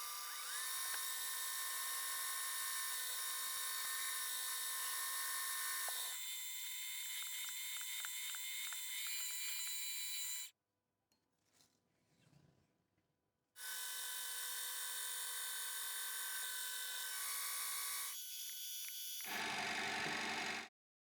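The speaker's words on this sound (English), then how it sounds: "I drilled and reamed for a pin and a threaded adjuster." A mini mill drilling and reaming for a pin and a threaded adjuster, a high whining spindle sound in long steady passes, broken by a short quiet gap before the cutting resumes, no talking.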